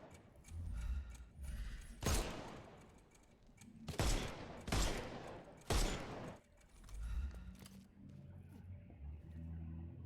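Gunshots in the Sherlock Holmes Chapter One video game ring out as several loud separate blasts spaced a second or two apart, over a low background rumble.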